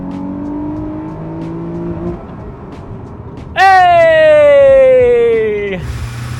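A daily-driver car launches hard from a standstill in a 0 to 60 run. After a quiet idle it breaks into a loud, rising engine howl that climbs steadily in pitch for a few seconds, then drops away as the throttle eases.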